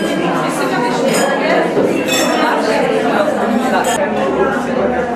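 Glasses and dishes clink again and again amid a crowd's lively chatter during a toast at a celebration of ninety years of the puppet theatre in Polná, the sharp chinks scattered through steady background voices.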